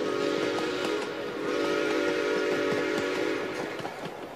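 Steam whistle of a mountain railway train that once hauled gold-bearing rock, a loud sustained tone held for the whole stretch with no voices.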